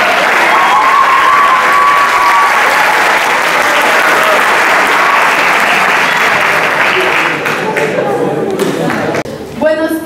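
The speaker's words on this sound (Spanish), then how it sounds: "Fuerte los aplausos." Loud, dense audience applause at a school theatre and expressive-therapy launch event fills the room steadily, thinning slightly toward the end as a few scattered claps trail off.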